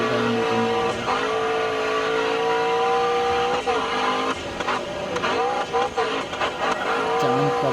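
Racing-game car engines drone steadily from a mobile game, with tire skids and screeches cutting in during the second half while a voice talks over it throughout.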